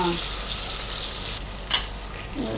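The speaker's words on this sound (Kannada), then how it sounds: "ಈರುಳ್ಳಿ ಮತ್ತು ಟೊಮೆಟೊ ಎರಡೂ ಹಾಕ್ಕೊಂಡು ಈಗ ಫ್ರೈ ಮಾಡ್ಕೊತಾ ಇದ್ದೀವಿ" Onions and tomatoes fry in a pan for a village-style pulao, giving a steady sizzling hiss that thins out partway through, with a brief clatter near the end.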